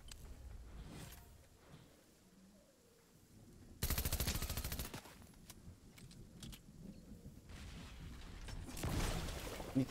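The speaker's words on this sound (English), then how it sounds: "The machine pistol is not as good as I would be, to be honest." Machine pistol fire in a first-person shooter video game, bursts of rapid shots, loudest in a dense stretch near the start and again toward the end, over steady game background noise.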